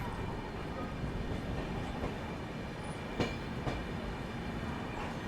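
Tirupati Raxaul Express train rushing past in a loud, steady rumble of wheels and wagons, with two brief sharp clanks partway through.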